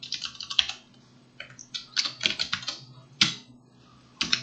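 Rapid bursts of keystrokes on a computer keyboard as file contents are typed into a new a.html file in a terminal text editor, close and crisp with short pauses between flurries and no speech.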